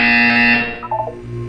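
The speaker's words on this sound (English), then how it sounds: "You will hear a buzzer." Portal 2 test-chamber buzzer sounds a loud, sustained electronic tone for about half a second, then fades into brief softer blips and a low hum.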